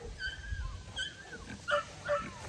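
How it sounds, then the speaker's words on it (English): Several dogs on a farm yip and whimper in short, high bursts, a few overlapping calls spread across the moment, moderately close with no talking over them. "Who's barking like crazy?"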